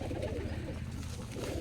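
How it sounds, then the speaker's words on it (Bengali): Pigeons cooing steadily while feeding on whole corn at a pigeon farm, a continuous soft low warble that stays close and fairly loud with no talking. "এটা দেখেন কবুতর ভুট্টা খাচ্ছে কি করে দেখেন"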